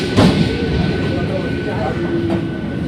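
A Santragachi to Shalimar suburban local train runs with a steady loud rumble and hum of wheels on track, heard from inside with no one speaking over it.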